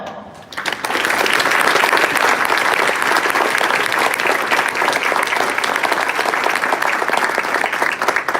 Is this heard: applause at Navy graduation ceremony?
yes